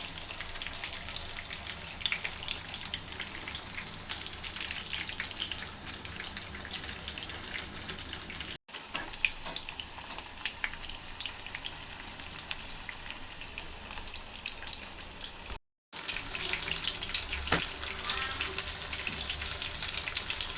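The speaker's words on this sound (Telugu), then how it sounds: "ఒక పక్కనైతే ఫ్రై ఒక పక్కనైతే ఫిష్ కర్రీ రెడీ అయిపోతుందండి" Fish fries in a pan in a Nellore-style fish cooking session, giving a steady, dense crackle and spatter like light rain that runs without a break apart from two brief silent cuts, with no speech.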